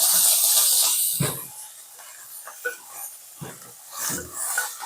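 Oil sizzling in a hot pan while pesarattu is being made, a loud steady hiss that fades after the first second, followed by softer crackles and occasional bumps from close by.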